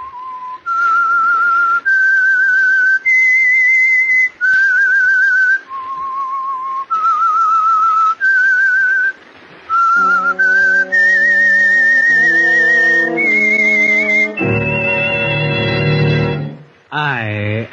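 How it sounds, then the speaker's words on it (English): A whistled theme tune for The Whistler radio mystery program, a clear solo melody of held and sliding notes that ends with a louder sustained passage. "That whistle is your signal for the Signal Oil Program"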